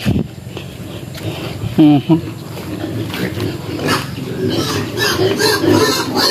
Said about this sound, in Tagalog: Bisitahin natin guys ang ating mga alagang piggy.